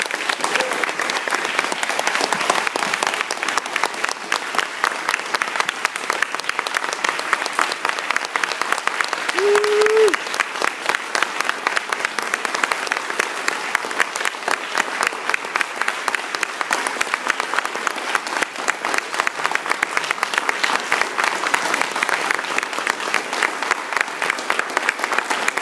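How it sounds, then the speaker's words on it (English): Audience applause fills a film festival award presentation at the New York Asian Film Festival premiere, a steady, dense clapping that holds loud and even throughout with no break. "please give Paige and Dan a big round of applause"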